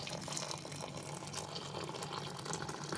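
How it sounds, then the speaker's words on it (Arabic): Hot water poured over washed, drained rice, a faint continuous splashing, running stream heard close and steady throughout. "ده بقى الرز عندي غسلته وصفيته، هنزل عليه بميه سخنه"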